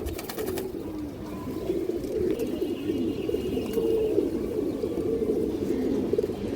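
A female Army breed pigeon coos close up in a steady, low, rolling murmur that repeats throughout, with no talk over it.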